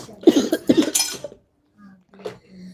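A person coughs in a rapid cluster of harsh, close bursts, followed by a pause and then a softer, single throaty cough.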